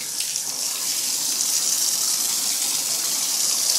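Warm water running from a tap into a sink being filled to wash a cosplay wig: a loud, steady hiss of gushing water, close and unbroken, without talk.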